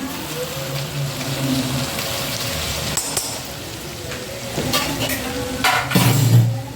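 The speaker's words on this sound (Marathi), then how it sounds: "आणि हिरवी मिरची टाकली ती छान अशी तळून घ्यायची आपल्याला" Green chillies frying in a pan of tempering oil, a steady close sizzle broken by a few clinks and scrapes of stirring.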